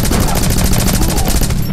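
Rapid automatic gunfire in the video game Rocketbirds: Hardboiled Chicken, a loud, evenly spaced stream of about twenty close shots fired without pause.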